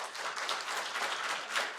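Steady applause from a church congregation at a Christmas Day service, many hands clapping together in a continuous wash with no talking.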